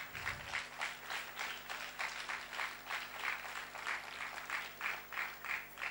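An audience at a cultural centre applauds the venue's managers during a radio station's 35th-anniversary celebration. The clapping is steady and pulsing, moderately distant, and lasts throughout without a break.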